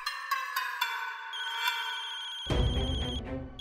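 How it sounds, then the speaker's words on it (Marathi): A mobile phone ringtone plays a repeating electronic melody on its own for about two and a half seconds. A louder burst of music or noise then cuts in over it, in a scene from a Marathi TV serial. "अरे उचल की मर्दा फोन लवकर."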